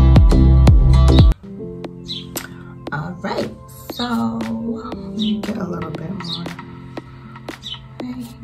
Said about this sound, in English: there's like this bird chirping